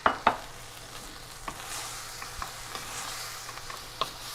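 Orange chicken sauce with cornstarch cooking in a pan, a faint sizzle with occasional scraping stirs and light clinks, no talk.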